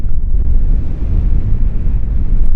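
Strong wind buffets the microphone with a constant low rumble and roar, no voices present.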